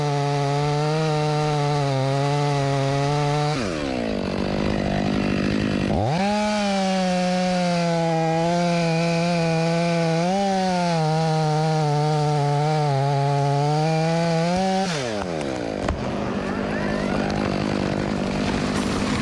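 A Stihl 500i chainsaw runs loud and close, holding a steady high whine, dropping briefly to a lower idle twice and then revving back up.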